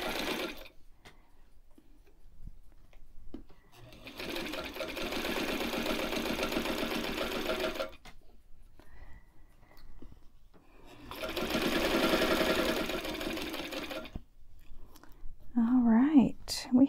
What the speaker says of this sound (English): Just back stitch a tiny little bit and we are done.